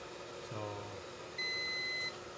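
A multimeter set to buzzer mode, probing the shorted primary power rails of an Asus X409JA laptop, gives one steady electronic beep lasting under a second, clear and close after a quiet hum.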